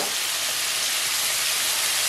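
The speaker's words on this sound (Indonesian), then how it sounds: "Ini minyaknya sudah panas ya. Sekarang saya goreng." Salted jambal roti fish crackles in hot frying oil, a steady bright sizzle heard close up with no voices.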